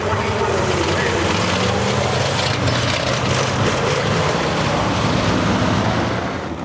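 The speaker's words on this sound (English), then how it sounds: "the midgets come out for their first heat race of the evening" Midget race cars come out at dusk for their first heat race of the evening on a dirt oval, a loud continuous roar of engines with broad rushing noise, steady throughout before easing slightly at the end.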